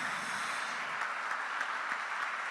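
Church congregation applauding in a thick, continuous patter of many hands, steady and fairly distant, with no speech over it.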